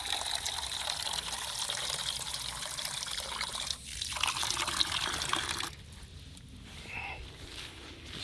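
Water poured into a pot or container for a rocket stove outdoors, a continuous splashing fill that changes pitch and eases off partway through.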